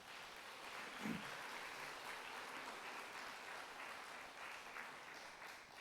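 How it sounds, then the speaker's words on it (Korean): A church congregation applauds to welcome visiting parents from Korea, a soft, even wash of many hands clapping that carries on steadily for several seconds, with no talk over it. "잠시 자리에서 일어나시면 우리 박수로 환영하도록 하겠습니다."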